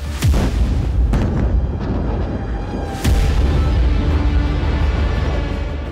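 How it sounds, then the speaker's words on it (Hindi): Heavy booms and blasts thud repeatedly, with sharp cracks cutting through a continuous low rumble of powerful explosions in Beirut, Lebanon, from Israeli strikes, loud and close. "लेबनान की राजधानी बेरूत में कई शक्तिशाली विस्फोट हुए"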